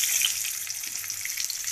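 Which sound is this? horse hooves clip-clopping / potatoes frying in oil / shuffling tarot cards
potatoes frying in oil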